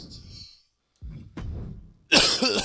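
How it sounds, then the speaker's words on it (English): A man coughs and clears his throat during a wrestling game draft, with short rough bursts separated by brief silence and ending in a loud harsh blast. "Sorry if I'm coughing a little bit."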